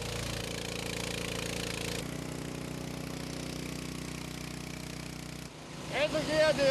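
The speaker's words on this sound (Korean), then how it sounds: "물을 빼는 모터 소리만이 쉼없이 울리고 있다." A water pump motor drains flood water in a dark, unlit alley after heavy rain and a landslide, giving a steady, loud mechanical drone that runs continuously before shifting near the end, where a voice is heard.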